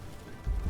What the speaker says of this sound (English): Ooh, there's the hailstorm.